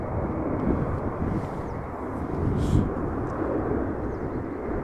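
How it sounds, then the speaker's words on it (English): An Embraer 190 airliner arriving at Amsterdam Schiphol Airport gives a steady, broad jet roar that swells slightly midway, with wind buffeting the microphone throughout. "the second Embraer 190 to Leeds is also arriving on the scene"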